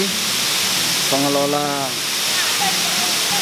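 Steady roar of Timponan waterfall in Lombok, a broad continuous wash of falling water heard from nearby, with someone speaking briefly over it.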